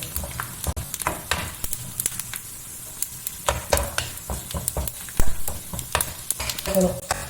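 A pumpkin dish fries in a pan until browned, giving a close, steady sizzle broken by repeated scraping stirs of a utensil against the pan.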